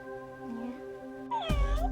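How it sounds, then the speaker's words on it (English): Robotic toy cat in a child's room giving electronic meows: a long, steady, tonal meow, then a louder, brighter burst of meowing near the end, close and clear with no talking. "It's not a real cat. It's a robotic cat."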